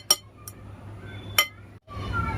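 A hand whisk strikes a bowl while mixing wheat flour, egg and baking powder, giving a few sharp metallic clinks followed by steady soft scraping, close and alone.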